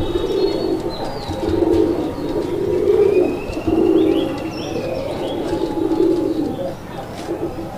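Native pigeons cooing in repeated rounded phrases close by, several calls in steady succession with faint chirps above.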